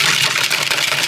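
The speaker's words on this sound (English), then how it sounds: "Now we're going to whisk this until I get some frothy action going." A vanilla mixture for pecan pie filling is beaten into a froth, giving a steady, loud whirring hum with no pauses throughout.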